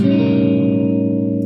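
A single sustained electric guitar seventh chord with a flat five and flat nine rings out with effects-laden, slightly distorted tone, tense and dissonant, decaying gently over a second and a half.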